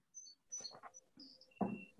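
Several crickets chirp in short, high bursts with gaps between them, fairly faint and close to the recording, during a quiet pause in an interview.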